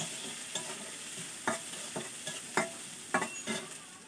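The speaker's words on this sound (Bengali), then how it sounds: "এবার নেড়ে চেড়ে নিয়ে" Onions being stirred in hot oil for a Bengali fish oil curry, with a few soft scraping strokes in the pan over a faint steady sizzle, quiet and close.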